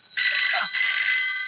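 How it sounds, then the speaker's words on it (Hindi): A telephone rings with a steady, bright electronic tone that holds for over a second after a brief pause. A faint voice murmurs underneath. "फोन बज रहा है तेरी।"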